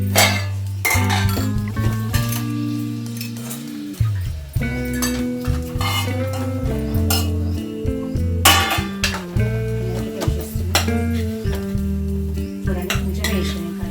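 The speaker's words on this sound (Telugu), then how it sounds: "కర్రీ కూడా రెడీ అయ్యింది. ఒక గిన్నెలకి అయితే వేసేస్తా." Mutton curry is ladled into a bowl with repeated metallic clinks and scrapes of a ladle against pots and dishes, close and clear over background music.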